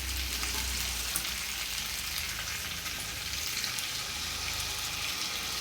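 A little water hits boiled potatoes frying in a pan for a Bengali-style potato curry, producing a continuous close hiss and sizzle with faint stirring underneath.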